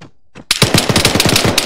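Rapid automatic gunfire in the video game ARMA 3, a brief silence and then a loud, close burst of sharp repeated shots in quick, even succession.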